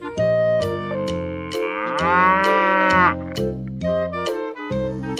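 A mother cow moos repeatedly, loud and close, with one long drawn-out low moo in the middle among shorter calls.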